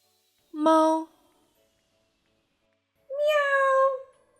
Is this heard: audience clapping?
no